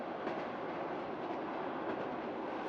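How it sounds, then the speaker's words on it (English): A passenger train runs along the rails on a long journey through Romania, giving a steady, close, continuous rumble and rattle with faint rhythmic clatter and no speech. "After 6 hours on the train"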